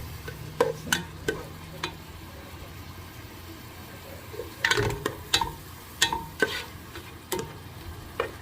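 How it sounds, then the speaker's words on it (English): Tomatoes stirred in a pan to soften them, a spoon scraping and tapping the pan in irregular strokes over a faint sizzle, close and without talk. "Mix, mix, mix, mix. So that the tomatoes will get softened."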